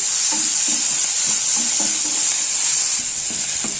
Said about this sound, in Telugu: ఇప్పుడు దీంట్లో కొద్దిగా కరివేపాకు వేస్తున్నాం